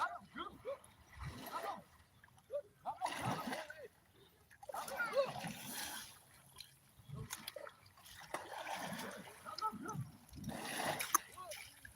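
Children bathing in a pool, with intermittent bursts of splashing water rising and falling across the stretch, heard at moderate distance amid voices talking and calling out.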